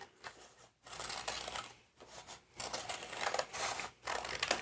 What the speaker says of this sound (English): I'm going to cut notches